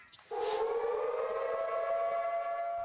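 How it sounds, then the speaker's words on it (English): A civil-defense siren blares at the COP26 climate talks. It starts after a brief thump, then holds a loud, steady, wailing tone that sustains without pause. "A blaring siren at the start of the day was meant to crank up the pressure on negotiators to take dramatic steps."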